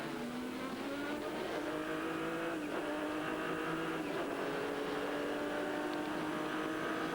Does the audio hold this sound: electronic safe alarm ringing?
no